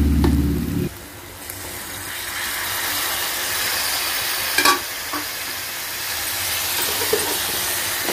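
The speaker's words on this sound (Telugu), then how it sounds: "ఫస్ట్ టమాటా ముక్కలు వేసి మగ్గనిద్దాం" Tomato pieces fry in oil in a pan for Andhra-style fish curry, a steady hissing sizzle with a brief louder burst at the start and a few small clinks of stirring, no talking.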